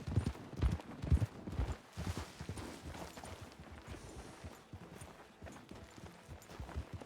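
Horse hooves clip-clop in a video game, an uneven run of hoof strikes with a low rumble, louder at first and then settling into a softer, irregular walking rhythm.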